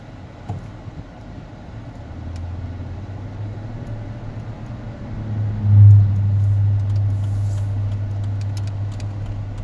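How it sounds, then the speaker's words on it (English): A 2006 Dodge Magnum R/T accelerates on the road, a low engine drone rising and swelling midway as the automatic transmission downshifts, heard from inside the car with steady road rumble. "Now it's just give it gas and it downshifts automatically almost."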